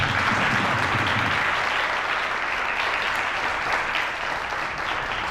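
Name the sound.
audience applause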